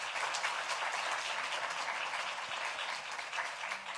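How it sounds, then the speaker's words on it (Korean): Church congregation applauding during a Sunday worship service, steady dense clapping sustained and fairly loud throughout without pause. "또 잘 충성할 수 있도록 격려 박수하겠습니다"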